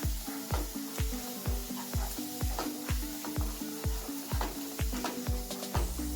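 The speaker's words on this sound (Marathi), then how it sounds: "हा मसाला आपल्याला अगदी छानपैकी परतून घ्यायचा" Masala sizzles steadily in a hot pan as ginger-garlic paste, green chilies and curry leaves are sautéed, with a regular rhythm of spoon strokes scraping through it, loud and close.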